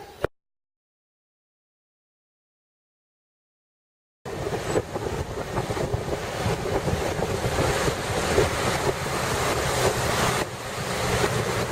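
Ocean surf and gusty wind on a Baja California beach, waves rolling in as a continuous roar with wind buffeting the microphone, following a brief thump and several seconds of silence.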